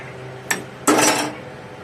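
A utensil scrapes and knocks against a pot while falooda ingredients are stirred: one short clank, then a louder, longer metallic scrape, close and free of talk.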